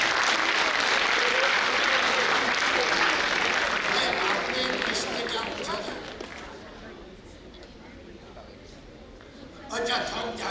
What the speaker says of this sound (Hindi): उनका कॉन्फिडेंस के पर ताली बजाओ